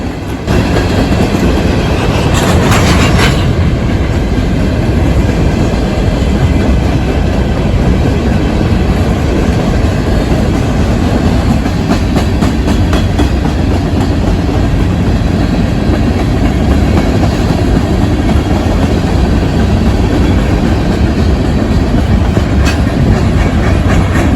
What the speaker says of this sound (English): a direct result from that came when 171's locomotives passed me